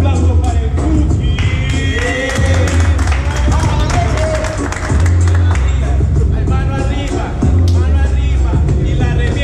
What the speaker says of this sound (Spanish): Aplauso para el Cookie.